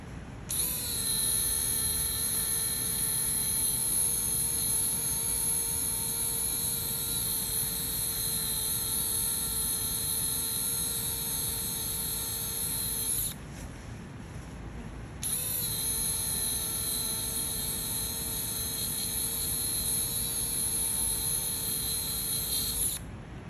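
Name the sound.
dermabrasion tool grinding a scar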